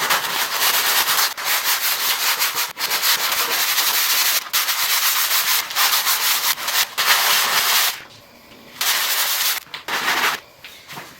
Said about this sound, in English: So I'm going to go ahead and sand it out real quick